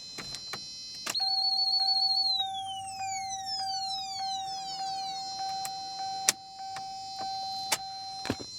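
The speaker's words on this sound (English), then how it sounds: "This one makes a weird signal noise right here" Chevy Malibu immobilizer antenna test giving off electronic signal tones: a steady high whine, descending and rising sweeping pitches layered together, and sharp clicks scattered throughout, with no talking.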